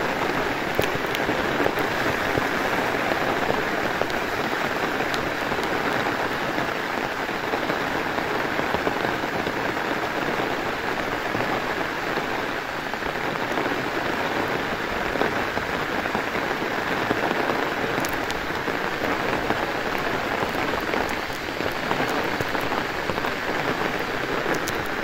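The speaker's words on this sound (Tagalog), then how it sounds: "At malakas ang ulan." Heavy rain pours steadily at a foggy campsite in Cavite while camp is being broken, a dense, unbroken hiss on surfaces lasting the whole stretch with no voices.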